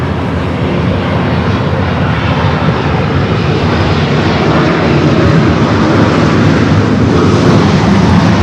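A Turkish heavy airliner, a Boeing 787, arriving at LAX on the north side, its engines producing a loud, steady, broadband roar that fills the whole stretch without letup.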